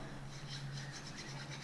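Quiet, steady rasping friction of a wooden fire drill spindle rubbing against a wooden board in short repeated strokes, making fire by friction, with a faint low hum underneath.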